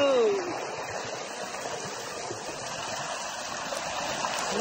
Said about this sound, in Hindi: ये देखा पूरा झरना है